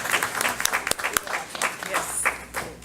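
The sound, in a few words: audience applause for Baldwin school staff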